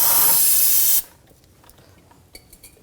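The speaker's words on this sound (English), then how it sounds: "Little brake parts cleaner," Brake parts cleaner sprayed onto a front brake hose of a 2007-2013 BMW X5, one loud close hiss lasting about a second, then quiet with faint small clicks.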